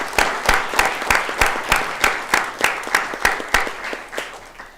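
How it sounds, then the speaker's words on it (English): A small audience at a Texas Board of Criminal Justice meeting claps steadily in honor of valued employees, a sustained and fairly loud round of applause with distinct regular hand claps and no talking. "let's give a big round of applause to all of these valued employees"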